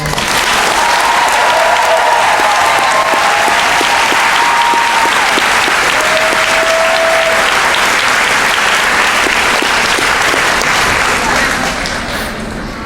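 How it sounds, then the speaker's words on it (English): A large audience applauds at a middle school graduation ceremony, loud continuous clapping with a few faint cheers in the first half, tapering slightly at the very end. "one last round of applause"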